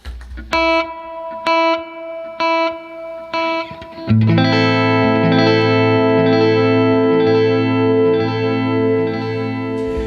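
Guitar notes that swell in from silence with a backwards-sounding attack, a few separated pulses, then a sustained, washy chord with heavy effects.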